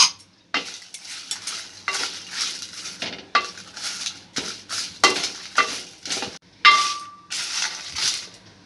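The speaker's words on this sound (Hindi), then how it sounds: "हम मिर्ची को भी ऐसे डाल लेंगे इसमें फ्राई पैन में, और ये बचे हुए तेज पत्ते हैं ये दोनों को साथ में करेंगे" Chilies and bay leaves being dry-roasted in a frying pan for homemade garam masala: a spatula scrapes and clinks against the metal pan in short repeated strokes, close and clear, with a faint sizzle between them.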